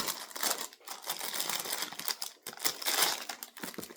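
Small craft pieces, rhinestone-type bits, clatter and rattle as they are dropped into a container, a close, quiet series of irregular clicks and tinkling bursts with no talking.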